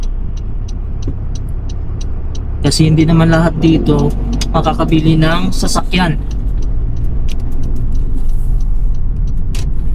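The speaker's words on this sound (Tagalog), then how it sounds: "Ayan yung bus dito." A city bus drives along a street in Nuuk, Greenland, giving a steady nearby road-vehicle rumble throughout while someone talks over it.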